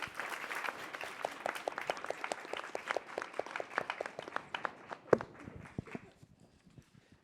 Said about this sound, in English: Everybody, please give a huge hand of applause to all the teams tonight